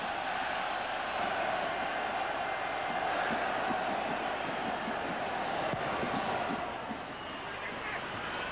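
A football crowd at a Wales v Romania World Cup qualifier keeps up a loud, continuous roar of cheering and chanting in the stadium, with commentary heard over it.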